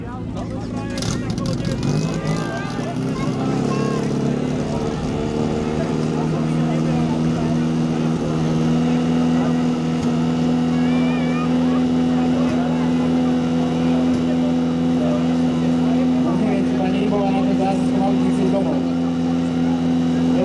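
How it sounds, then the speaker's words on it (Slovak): A fire pump engine runs at a firefighting competition in Dolná Štubňa, holding a loud, steady droning hum with a strong tonal whine throughout, while voices talk over it. "Rolník dostal pokyn na štartovanie stroja. Po malú chvíľu bude oštartované."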